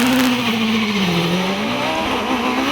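A Gould Judd V8 race car on a hillclimb course at Loton Park braking hard into a corner, its engine note sliding down in pitch with gearbox whine, loud and close throughout.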